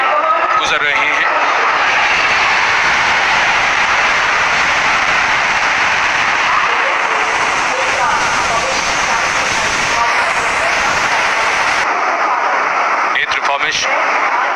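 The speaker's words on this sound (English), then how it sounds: "वायुसेना के विमान सलामी मंच के ऊपर से गुजर रहे हैं" Indian Air Force aircraft pass over the saluting dais at the Republic Day parade in poor, low-visibility weather, a loud, steady broadband roar filling the whole stretch with little change, while a voice is faintly present beneath it.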